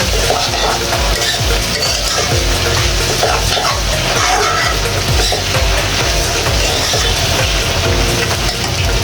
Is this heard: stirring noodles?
yes